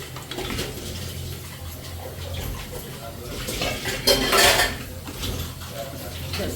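Cooked chicken tipped from a vessel into a pan of onion-tomato masala for butter chicken, with wet sliding, clinking metal and a brief louder splashy scrape near the end, close and moderate.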